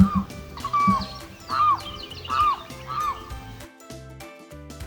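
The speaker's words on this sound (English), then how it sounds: "Limpkin." A limpkin gives loud, wailing calls, four of them repeating roughly every second over a busy background with music, then stopping near the end.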